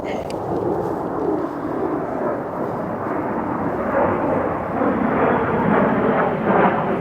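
An A-10 Warthog jet passing over a golf course, a loud sustained broadband roar that holds steady and swells slightly toward the end.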